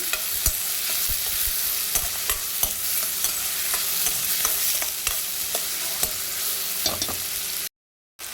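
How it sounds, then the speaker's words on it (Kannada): Chopped onion fries in hot oil for an egg curry, a continuous close sizzle with scattered spatters and occasional stirring scrapes, no voices, ending in a brief cut to silence. "ಸೊ ಆಯಿಲಲ್ಲಿ ಚೆನ್ನಾಗಿ ಫ್ರೈ ಮಾಡ್ಕೊಳ್ಳಿ"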